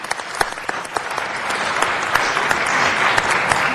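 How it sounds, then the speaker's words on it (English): A room full of people applauds steadily, a dense wash of clapping that holds at even strength throughout. "I don't know, colleagues, if we want to give Ed Reyes a round of applause"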